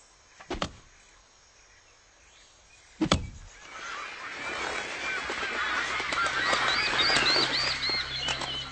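Birds call and honk in agitation as trees are cut, with two sharp knocks of chopping early on and then a rising, busy chorus of chirps and squawks that swells and stays loud.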